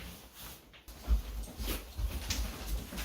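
Dogs whimper and whine faintly before being taken out for a walk, with soft breathy whines and shuffling over a low background rumble.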